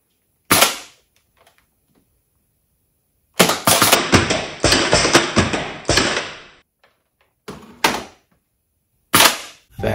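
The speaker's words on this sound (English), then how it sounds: "And this is a pneumatic cylinder and a Nerf gun." A Nerf blaster driven automatically by a pneumatic cylinder fires in loud, sharp bursts: a single shot, then a rapid rattling string of shots, then two more short bursts, all close up with silence between them.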